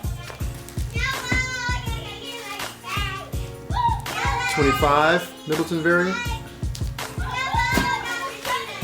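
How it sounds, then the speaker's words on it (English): Kids play in the background of a room, their shouts and chatter rising and falling continuously while someone talks closer to the microphone. "Hear my kids playing in the background."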